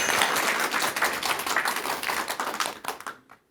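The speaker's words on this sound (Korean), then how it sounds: "여러분 박수 부탁드릴게요" Audience applause at a talk, a burst of many hands clapping that thins into scattered individual claps and stops abruptly near the end.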